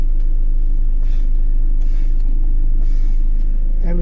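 Toyota Fortuner SUV diesel engine idling after a restart with the air conditioning off, a steady low rumble close by with faint periodic hissing bursts over it.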